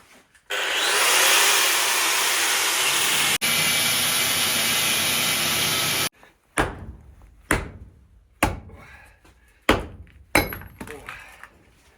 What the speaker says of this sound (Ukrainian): Відрізаємо шматки в середньому по 18 см.